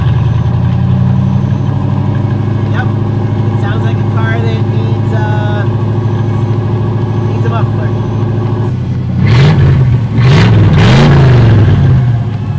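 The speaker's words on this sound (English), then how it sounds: "we're gonna start it up, as I would say, to see how it sounds without any exhaust" A Chevrolet Camaro engine with no exhaust fitted idles with a deep, steady drone while a person talks over it, then revs loudly in a few sharp bursts near the end.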